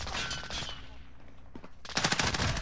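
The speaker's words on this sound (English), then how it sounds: "These guys shooting right behind me too." Enemy gunfire in a shooting video game: a rapid automatic burst, a short lull, then another dense volley of close, loud shots.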